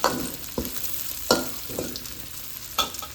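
Shallots, garlic and chili stir-fried in a pan, with a continuous close sizzle and a few distinct scraping spatula strokes at irregular intervals, and no voices.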